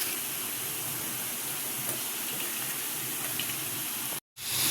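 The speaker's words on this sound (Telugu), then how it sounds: "బంగాళదుంపలు కట్ చేసుకున్న వాటిని ఆయిల్లో వేసుకొని డీప్ ఫ్రై చేయాలి." Cut potatoes deep frying in hot oil in a kadai, a steady, dense sizzling hiss with fine crackle that holds evenly throughout, broken by a brief silent gap near the end.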